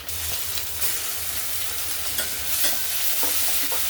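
Tomato goes into golden fried onions in a pan and gets stirred, the loud, close sizzle broken by repeated spatula scrapes and clacks in a quick uneven rhythm, with no voices.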